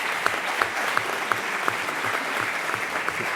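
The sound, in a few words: applause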